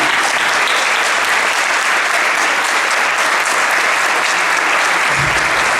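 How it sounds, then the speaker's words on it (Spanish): Dense, steady applause from a seated audience at a talk on a chronicler and immigration journalist, loud and continuous for the whole stretch with no voices on top. "renovamos este aplauso inmenso para Adriana y Verónica"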